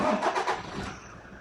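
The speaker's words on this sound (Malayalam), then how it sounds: "ഞാൻ സ്റ്റാർട്ട് ചെയ്ത് ജസ്റ്റ് വണ്ടിയുടെ എക്സോസ്റ്റ് കേൾപ്പിച്ചു തരാം" A 4x4 vehicle's engine cranks and fires up close by, a short loud burst that quickly settles toward a lower running rumble, with no voices.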